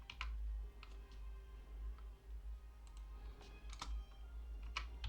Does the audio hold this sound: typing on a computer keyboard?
yes